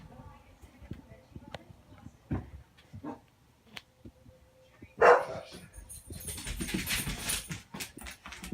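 A dog barks in sharp bursts, close and fairly loud, with a flurry of barks and yips near the end. Quieter sounds and some speech come between the barks.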